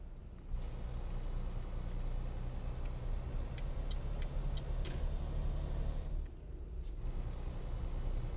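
Heavy truck engine in Euro Truck Simulator 2 labouring up a motorway ramp, a steady low droning rumble with a few faint high beeps and clicks over the top.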